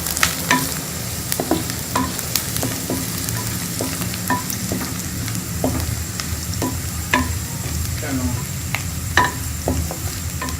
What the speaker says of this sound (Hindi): ये मैं इसके अंदर जीरा डालूंगी, इसको हम अच्छा फ्राई कर लेंगे।